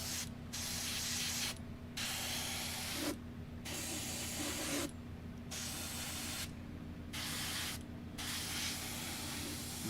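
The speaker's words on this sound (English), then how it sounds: "You see how I'm using nice, long, even, overlapping coats?" Spray painting long, even, overlapping coats onto a scale model vehicle: six bursts of close hissing spray, each several seconds long and split by short pauses, with a faint steady hum underneath.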